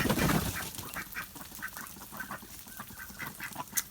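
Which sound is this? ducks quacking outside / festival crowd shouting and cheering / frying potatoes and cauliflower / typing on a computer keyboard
ducks quacking outside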